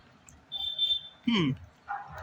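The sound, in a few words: dogs barking and whimpering on a street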